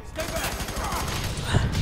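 Short burst of loud, close gunfire in FEAR 3 with what sounds like a shotgun amid rapid shots, over a talking voice.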